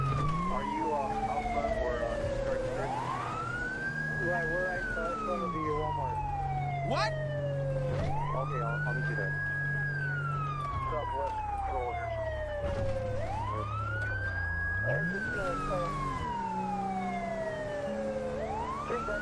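A police car siren in GTA 5 wails in repeating rising and falling sweeps, loud and continuous, over a low engine rumble with someone talking faintly underneath.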